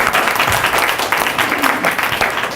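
An audience at a political candidate forum for a U.S. House district breaks into loud, sustained applause that stays full and steady for the whole stretch, with no voices rising above it.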